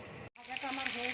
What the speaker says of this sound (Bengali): আমি আরেকটা তেলের মধ্যে দিয়ে দিচ্ছি।